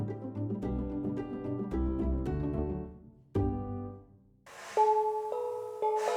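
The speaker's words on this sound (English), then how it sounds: "I played the famous nursery rhyme in Yilan, Du Du Dang. with gongs of different scales." Small handmade tiny gongs with drilled holes and colorful beads, in different scales, ring out the Yilan nursery rhyme Du Du Dang as a bright, resonant melody of struck tones, each note decaying, with a brief pause before more struck notes.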